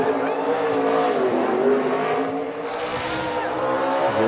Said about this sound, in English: He's got the classic old school donut somewhere in there.